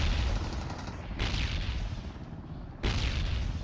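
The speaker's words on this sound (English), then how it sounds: "Nice nades coming in." Grenade blasts in a PUBG esports match crash out as two heavy, dense explosions about a second and a half apart, loud and broadband, with rumbling debris carrying between them.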